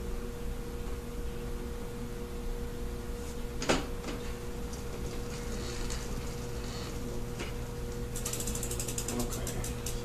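A bike drivetrain part being screwed in during drivetrain repair, giving a faint, steady ratcheting and mechanical whir with one sharper click partway through and light metallic ticking near the end, over constant background hum.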